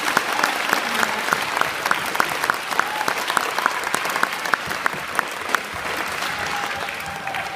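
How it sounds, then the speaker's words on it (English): Audience at a combined 7th and 8th grade school band spring concert claps steadily, a dense, loud, continuous wash of applause with a few sharper individual claps standing out, lasting several seconds without talking. "So one more round of applause."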